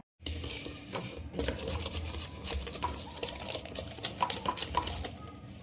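A spoon scrapes and clinks around a metal vessel, mixing water with a few drops of emulsion. The stirring is close and moderately quiet, with irregular rubbing strokes and light taps continuing for several seconds.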